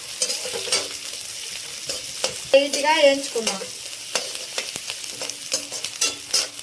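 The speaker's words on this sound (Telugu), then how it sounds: "సన్నగా కట్ చేసుకున్న ఉల్లిగడ్డలు లైట్గా వేయించుకున్నాం" Thinly sliced onions fry in oil, giving a soft, steady sizzle up close. Spatula strokes scrape and clatter at irregular moments through it.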